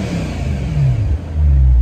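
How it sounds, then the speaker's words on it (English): A car engine revving through Valvetronic remote-controlled exhaust mufflers, a short close rumble that rises into a deeper, louder rev near the end. "I'll rev it up a little just so you can hear it."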